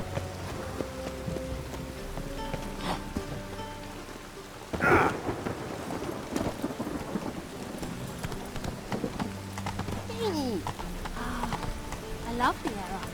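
Rain falls steadily through a thunderstorm in The Witcher 3 game, with a loud thunder crack around midway, horse hooves clip-clopping and a few background voices speaking.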